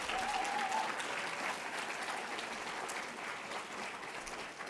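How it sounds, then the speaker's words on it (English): An audience at an oratorical event applauds steadily, a dense, even wash of clapping that eases slightly toward the end. "That deserves a round of applause."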